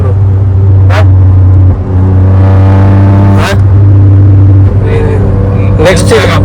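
A modified vehicle exhaust rumbles loudly and close by, a deep steady drone with engine revs swelling and dropping, interrupted by a few sharp bangs or pops, while voices talk over it.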